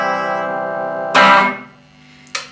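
A sustained electric guitar chord on the bridge pickup rings through a Vox AC4TV amp with bright, slightly gritty tone, then a sharp strummed attack, decay, and another quick strum.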